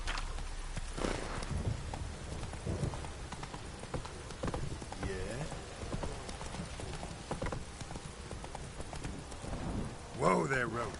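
Roach, Geralt's horse in the video game Witcher 3: Wild Hunt, gallops through rain with steady clip-clop hoofbeats under a wash of falling water, joined by game music and voices, and a brief whinny near the end.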